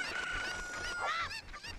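Cucco chickens in Zelda: Ocarina of Time, a couple of loud honking, squawking clucks close up, sounding alone without any talk.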